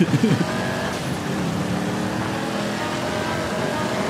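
Car in GTA V launching and sliding, a loud sustained engine roar with tire noise after a brief burst of laughter, holding steady and close for several seconds.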